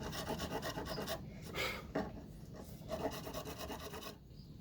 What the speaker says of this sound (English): You just file and sand them.